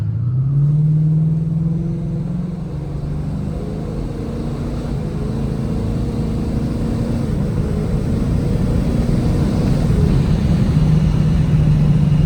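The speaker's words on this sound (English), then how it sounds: "definitely you can hear the supercharger" A supercharged 2020 Mustang GT with an XForce 3-inch catback exhaust drones and builds under acceleration, a steady low rumble with rising supercharger whine and wind noise inside the cabin, windows cracked, loud and continuous.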